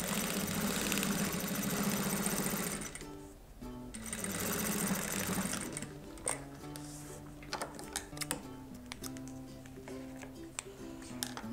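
A sewing machine stitches a fabric bag lining in quick, rattling bursts: a long steady run, a brief pause, another run, then short, irregular stitching spurts at close range.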